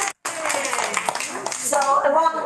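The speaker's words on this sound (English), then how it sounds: "Give their school board members a round of applause" Applause for school board members at a board meeting, a burst of hand clapping from a gathered audience with voices mixed in.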